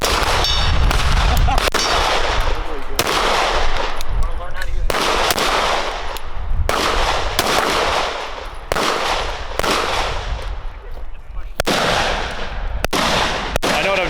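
Loud gunshots at an outdoor shooting range, a rapid string of sharp cracks and clangs with ringing tails, some shots bunched in quick bursts, with brief voices underneath.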